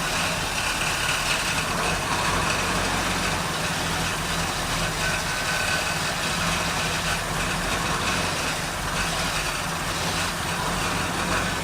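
An old Ford Bronco left ten years in a storage lot idles after a carburetor adjustment, its engine giving a steady, rough, continuous rumble nearby with no talking.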